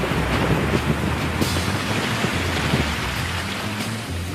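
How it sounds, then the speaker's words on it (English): Heavy monsoon rain pours down in Mawsynram near Cherrapunji, a dense, steady roar of drops hitting surfaces, loud and unbroken from start to finish. "According to Roy, the rain hadn't let up once during my 3 days in Cherrapunji."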